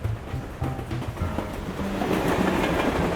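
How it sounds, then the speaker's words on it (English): A cartoon train heads to the mountains with a steady rumble and rhythmic clickety-clack of wheels on track. The rolling noise grows slightly louder toward the end. "This is the train to the mountains"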